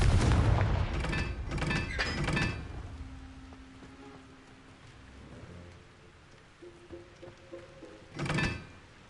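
A Confringo blasting spell in Hogwarts Legacy goes off as a cluster of heavy, booming explosions in the first couple of seconds. A low rumble and quiet hum follow, then one more blast lands near the end.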